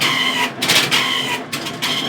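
A tire cutting machine runs with a mechanical whirring hum, broken by repeated scraping and rasping bursts as the cutter works through the rubber, heard close with no talk.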